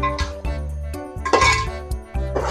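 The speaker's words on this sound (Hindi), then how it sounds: "यहाँ पर मैंने ढक्कन हटा दिया है" A metal lid comes off a cooking pot of restaurant-style bhuna chicken karahi with tomatoes, giving a few light metallic clinks and clatters over a steady background hum.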